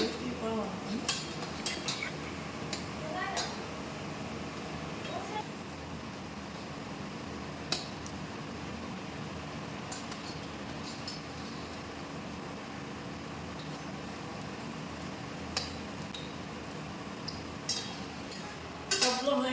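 Meat chops coated in cornflour frying in a pan over low flame, a soft continuous sizzle with occasional clinks and scrapes of a utensil against the pan, close and steady throughout.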